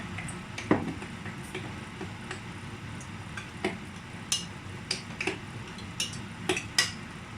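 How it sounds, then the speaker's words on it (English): Bean cake batter for African bean cake is mixed in a bowl, with irregular light clinks and taps of a utensil against the dish over a quiet background. "And then you mix it, give it a good mix."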